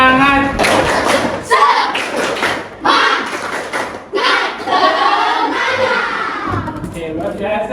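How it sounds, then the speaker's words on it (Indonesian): Students in a classroom performing the 'tepuk semangat' spirit clap, patterned bursts of rhythmic group clapping mixed with chanted voices, loud and close, with short pauses between the clapping phrases. "Tepuk semangat."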